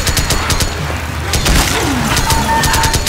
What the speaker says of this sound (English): Hey, stop shooting me.